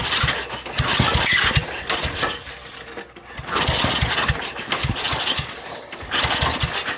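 An 8hp engine on a John Deere 110 lawn tractor runs on half choke, loud and close, with a rough uneven chugging that surges and dips in bursts, briefly faltering around the three and six second marks.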